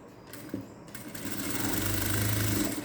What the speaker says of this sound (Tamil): இதை டபுள் ஸ்டிச் போட்டுக்கிறோம்